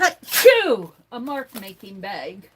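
One sharp, loud sneeze from a person working with dusty art supplies and bubble wrap, quickly followed by someone talking at close range.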